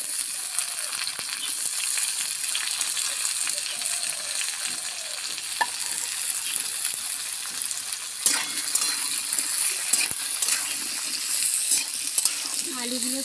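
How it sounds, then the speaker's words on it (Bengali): Papaya pieces and potatoes fry in a pan with a constant loud sizzle, while a utensil stirs them now and then with soft scraping knocks. "আলুগুলোর সঙ্গে পেঁপেটাও আমি খুব সুন্দরভাবে ভেজে নেব"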